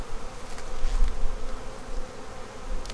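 Honey bees buzz in a steady, dense drone at close range while a hive is opened for inspection, with individual bees briefly swelling louder as they pass by.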